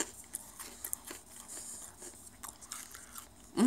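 Someone bites and chews a crunchy snack from a UK snack box that resembles honeycomb cereal. Soft, close crunches and crackles repeat irregularly at low volume, with no talking.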